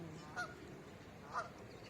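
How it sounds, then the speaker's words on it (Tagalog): Two short honking calls from ducks ring out about a second apart over a low, steady outdoor background in Alexandra Park, Oldham, where ducks and pigeons mingle. "Maiingay po ang mga kalapati. May mga kalapati ring humahalo sa mga dakling."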